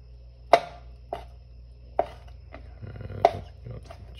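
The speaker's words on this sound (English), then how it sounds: "Let's go to the chopping." A sharp knife chops sardine-dish ingredients such as olives on a cutting board, giving four or five distinct, crisp strikes spaced about a second apart, close and clear with no talking.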